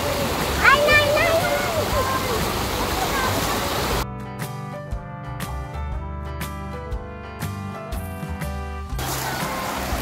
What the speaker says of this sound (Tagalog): Justin, matangay kayo ng agos.